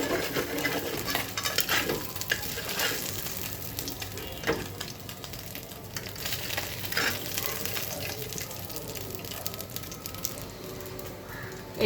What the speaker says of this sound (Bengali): আর একটি মাছ ভেজে নিচ্ছি